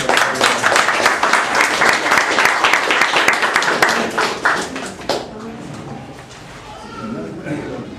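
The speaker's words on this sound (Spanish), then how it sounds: "el aplauso y el reconocimiento" An audience at a literary colloquium on Andean literatures claps for a speaker, dense applause for about five seconds that then stops, giving way to quiet room sound and a voice.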